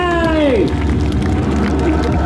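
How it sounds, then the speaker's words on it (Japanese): A crowd at an outdoor motorcycle stunt show cheers and applauds, a loud, dense roar of voices and clapping, while an engine's pitch sweeps down near the start. "大きな拍手をください"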